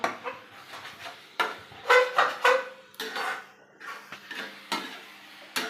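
Food being sautéed and stirred in a pan in a home kitchen, with scattered clinks and scrapes of a utensil against metal in short irregular bursts, close and moderately quiet.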